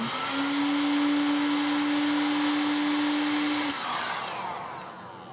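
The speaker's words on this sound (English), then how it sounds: "I tend to hold my heat gun underneath my chin" A heat gun blows hot air onto heat-shrink sleeving, a loud steady whooshing roar with a constant whine that drops away near the end as the gun is lowered.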